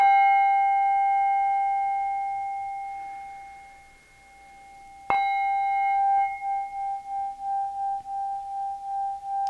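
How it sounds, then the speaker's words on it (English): A small protection medicine bell rings with a clear, sustained tone that slowly fades, then is struck again for a brighter ring whose pitch lingers and pulses gently as it dies away, heard alone without talking. "Let's let this medicine bell do its work, right? This little protection bell."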